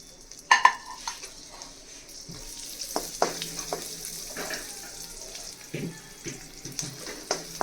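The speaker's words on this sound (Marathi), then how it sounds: "यामध्ये आपण सर्वात प्रथम लसूण छान असा भाजून घेणार आहोत" Garlic roasting in hot oil over a high flame, a low steady sizzle broken by sharp clinks of a spoon stirring against the pan, close by.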